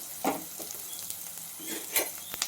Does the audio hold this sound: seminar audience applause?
no